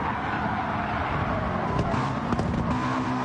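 Sim racing touring cars on hard tyres at Brands Hatch, a dense roar of several engines running together with a rising whine and scrubbing tyre noise, steady and loud with no talk.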